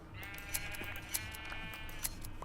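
A sheep in a video game bleats in a faint, thin voice a few times over quiet background sound, with small clicking sounds.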